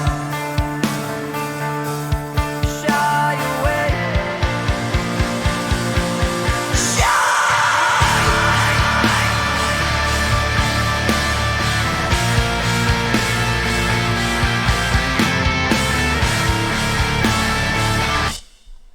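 A male rock vocalist lets out a raw yell over the full band in a song break, with pounding drums and dense guitars carrying on loudly underneath for most of the passage.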